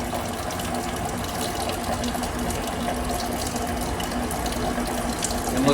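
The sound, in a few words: coolant pump running on OKK vertical milling machine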